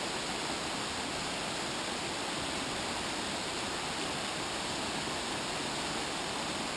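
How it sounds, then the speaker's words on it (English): A small waterfall in a canyon on the Oregon North Coast rushes in a constant, even roar of falling water, steady and close with no pauses. "Found a little waterfall here to get a video of."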